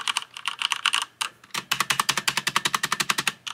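Rapid clicky keystrokes on a computer keyboard, a short burst, a brief pause, then a fast steady run of crisp taps close up.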